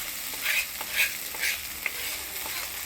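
Ground ginger-garlic, coriander-cumin and chilli pastes fry with chopped tomato in oil in a pan, a soft sizzle broken by rhythmic scraping stirs about twice a second, close and without talk.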